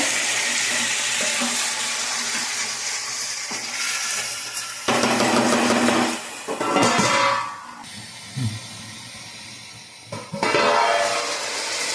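Chicken sizzles loudly in a hot pan as its water cooks off, a continuous hiss that swells into louder spitting bursts several times.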